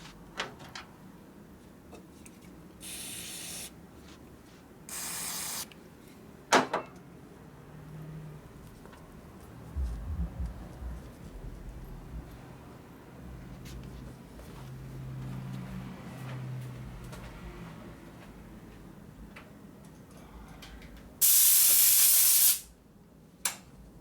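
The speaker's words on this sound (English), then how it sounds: "Alright, so I blew the threads out, make sure it's all clean." Compressed air blows out bolt threads on a Harley shovelhead big bore motor in a shop, with short hissing blasts early on, a long loud blast near the end and scattered clanks and handling noises between.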